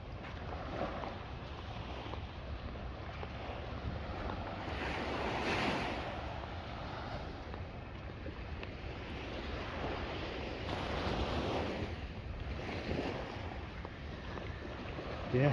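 Waves wash onto a beach in Buzios, Brazil, in soft, faint, rolling surges under wind buffeting the microphone, with no voices.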